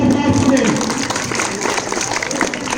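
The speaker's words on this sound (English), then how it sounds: "Please give a big hand of applause to them." Students applaud at a Children's Day school quiz, a dense, steady patter of clapping from a crowded room that stays loud throughout, with voices mixed in.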